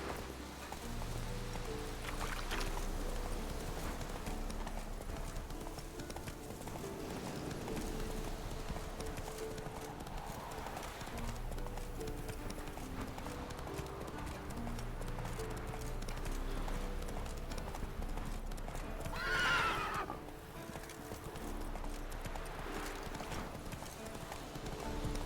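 Roach the horse in The Witcher 3 gallops with steady, rhythmic hoofbeats over a continuous game soundscape, with a single whinny rising briefly near the end.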